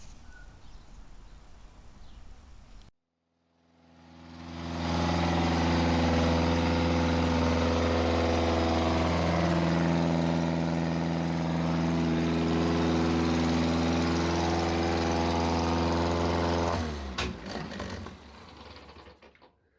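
A Coventry Climax fire pump engine starts and runs at a steady, even idle, loud and close, for about thirteen seconds before it cuts out.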